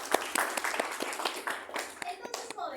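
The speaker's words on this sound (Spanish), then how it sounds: "Aplausos para su compañera." Scattered applause from a classroom of students for a classmate, a few sharp claps spread unevenly across a couple of seconds, fairly close and moderate in level, with faint voices in the background.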